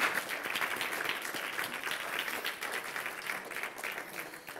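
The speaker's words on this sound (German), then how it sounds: "Nochmal einen ganz herzlichen Applaus für den spannenden Vortrag" Audience applause after a talk at a conference stage, dense steady clapping from a seated crowd that tapers off slightly near the end.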